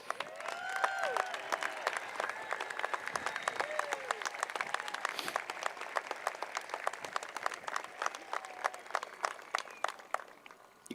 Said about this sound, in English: Let's have those students stand and give them a round of applause.